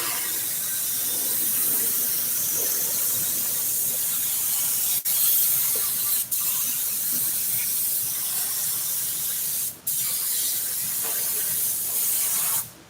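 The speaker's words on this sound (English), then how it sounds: "Then you spray around the bottom side and fold that over and you stick it." Aerosol spray adhesive hisses steadily across an ATV seat cover on a Yamaha Big Bear during upholstery work, a continuous close spray with a few brief pauses and sharp clicks.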